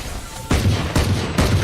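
A shotgun fires in a tactical shooter video game with three sharp, loud blasts spaced about half a second apart.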